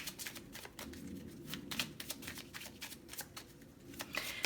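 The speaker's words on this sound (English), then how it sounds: "Let's get one more card for pile one." Tarot cards are shuffled by hand up close, giving quiet, rapid riffling and slapping flicks in an uneven rhythm that continues throughout.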